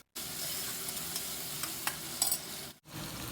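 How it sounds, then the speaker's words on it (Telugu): Tomato pieces with salt sizzling and frying in a pan, a steady hiss with a few stirring scrapes, pausing briefly near the end before resuming. "ఈ టమాటో పీసెస్ కూడా వేసేసి సాల్ట్ యాడ్ చేసి 1 నిమిషం పాటు మనం ఈ ముక్కల్ని వేయించుకుందాము"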